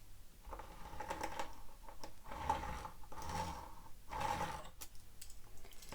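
A metal sewing tracing wheel rolled along the edges of a paper card against a metal ruler, giving soft repeated ticking and scraping strokes in several short passes at close range.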